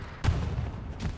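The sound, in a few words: mine explosion blowing up a vehicle in a video game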